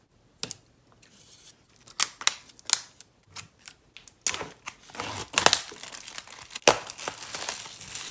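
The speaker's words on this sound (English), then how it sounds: "So I'm gonna take off the plastic" Crisp plastic wrap is peeled and torn off a photobook album in a series of close, sharp crinkles and rips, irregular bursts separated by short pauses.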